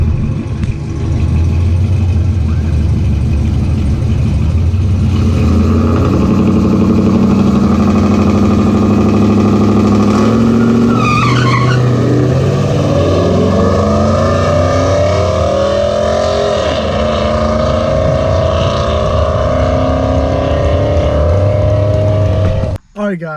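A cammed Chevrolet Silverado truck engine at a drag strip revs loudly and up close, its pitch climbing in repeated sweeps with a choppy idle between pulls, and voices are briefly heard over it.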